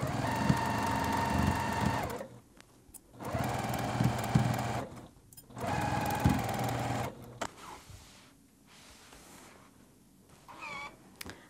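A sewing machine runs a quarter-inch seam on a quilted pillow in three steady bursts of close, continuous whirring, each lasting about two seconds with short pauses between, followed by quieter handling sounds.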